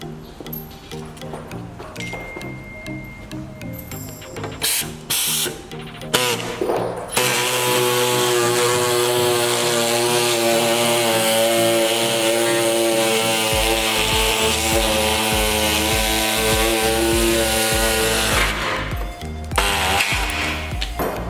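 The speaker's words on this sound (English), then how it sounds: "I'm just going to cut that out so it sits flush with my bar." A loud power tool, likely a grinder or saw, cuts a recessed section in metal for fitting a Rockarmor wheel carrier on a Nissan Patrol Y61 GU, with a steady, continuous whine after scattered handling knocks at the start.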